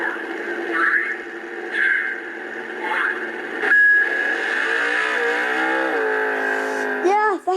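Electronic engine sound effect from a Hess 2016 toy race car: a loud, synthesized revving whine with repeated rising sweeps and a wavering, siren-like warble near the end, playing alone and close to the microphone.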